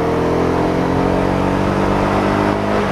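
Loud, close engine note of a 2022 Honda CB 250 R motorcycle accelerating hard, holding a steady strong drone throughout with no voices.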